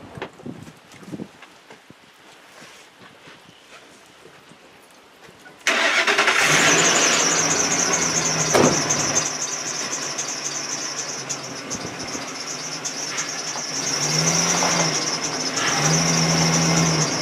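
A pickup truck fitted with a Meyer snow plow cranks and fires up after a quiet stretch, then settles into a loud, steady idle close by, with the engine note shifting slightly as it runs.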